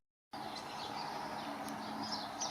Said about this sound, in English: They go well with the dawn chorus.